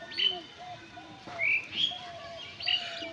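Pigeons in a loft or coop give several chirps and short calls spread across a few seconds, fairly close and moderately loud, with soft background noise.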